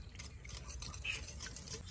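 Cornflour, also called corn starch, being stirred into room-temperature milk with a spoon, a soft continuous swishing and scraping at low level with no one talking.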